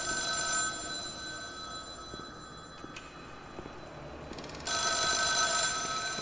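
A telephone rings in the video game The Town of Light, a bright electric bell trilling in two loud bursts at the start and end over steady room noise.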